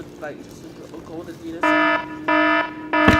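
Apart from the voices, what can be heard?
fire alarm going off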